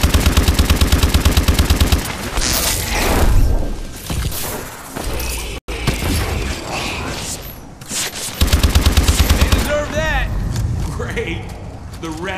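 Automatic turrets fire in an AW: Descent zombies round, loud rapid bursts of gunfire in repeated volleys mixed with explosions and game effects, with voices talking over the action.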